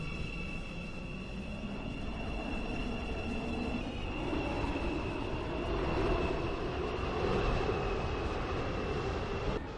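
A four-coach train in the Roblox game Stepford County Railway rumbles steadily at Financial Quarter station, with a sustained rolling drone and high electrical whine that swells slightly midway, no talking.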